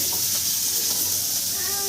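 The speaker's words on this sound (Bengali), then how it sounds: "ছোট মাছ ভাজছে" Small fish fry in a home kitchen pan, producing a continuous close hiss of sizzling oil for a brief moment, with no clear speech.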